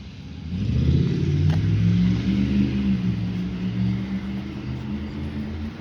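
A truck passing close by with a low, rumbling engine that swells loud within the first second, then slowly fades as it moves away, steady and unbroken with no talk.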